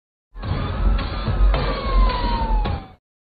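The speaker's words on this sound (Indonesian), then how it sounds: "Ia menghidupkan sirine ambulans" An ambulance siren from an Indian film wails loudly and continuously with a wavering, sweeping tone, cutting in abruptly and stopping after about two and a half seconds.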